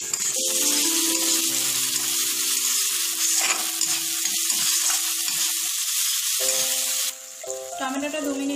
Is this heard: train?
no